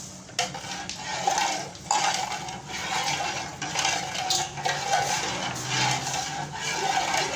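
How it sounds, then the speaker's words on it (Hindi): Sugar is stirred into green sharbat with a metal spoon, making continuous clinking and scraping against the vessel with a watery swish. The stirring is fairly close and steady, with no talking. "चीनी मिक्स हो रही है शरबत में"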